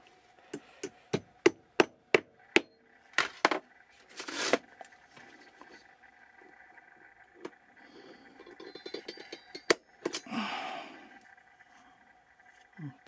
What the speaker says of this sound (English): This little hammer.